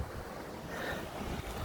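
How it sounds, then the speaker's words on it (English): Strong wind blows outdoors, a steady broadband rushing roar with buffeting against the microphone and no voices. "while it's got really fucking windy"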